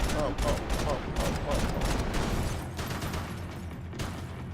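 Dense, rapid automatic rifle gunfire in the video game Max Payne 3 rattling continuously, loud and close, with a muffled voice faintly underneath and bursts thinning out toward the end.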